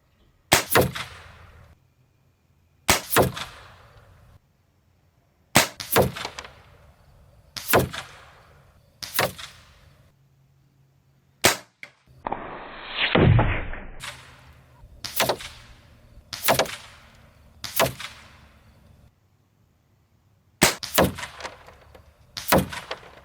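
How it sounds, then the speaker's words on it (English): Single shots from a Hammerli 850 Air Magnum CO2 air rifle, a dozen or so sharp cracks spaced a second or two apart, with a brief hiss of handling partway through. "I am 16 shots in my 24 grams of CO2. It's shoot and see time."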